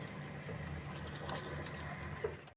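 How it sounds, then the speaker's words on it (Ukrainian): Bell pepper marinade boiling in a pot on a gas stove, a steady close bubbling and watery rush with a few brighter splashes, heard alone without any talk. "Маринад почав кипіти і закладаємо слідуючу порцію"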